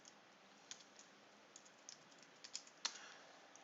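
Someone types a command on a computer keyboard: sparse, soft key clicks at an uneven pace, with one sharper keystroke near the end, in a quiet room.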